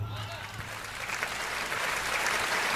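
An audience at a Hindi kavi sammelan poetry recital breaks into applause, a thin, steady patter of clapping that builds gradually across the moment, with some crowd noise underneath.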